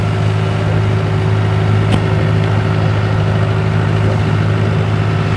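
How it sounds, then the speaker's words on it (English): A boat engine idles steadily on the Norfolk Broads at around 1200 revs, a constant low drone that runs the whole time with no one speaking. "I can hear the engine"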